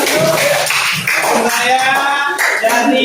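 Students in a classroom clapping their hands together in a quick, lively round of applause, close and fairly loud, with some voices mixed in.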